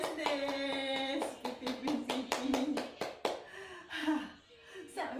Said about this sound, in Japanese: 頑張った自分とみんなに拍手